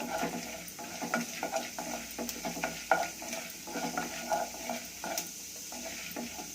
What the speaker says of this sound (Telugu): తర్వాత శనగపప్పు ఒక 2 స్పూన్లంతా వేసినాను. ఇది కొంచెం వేయించుకోవాలి, కలర్ చేంజ్ అయ్యేంత వరకు.